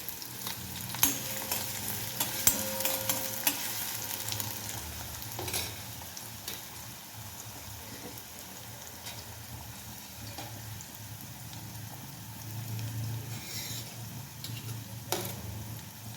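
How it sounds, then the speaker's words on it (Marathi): Chopped onion sautés in hot oil in a kadhai, a soft continuous sizzle with intermittent stirring scrapes and a few clinks; fairly quiet, with no talking. "आधी कांदा लालसर होईतोपर्यंत परतून घेऊयात"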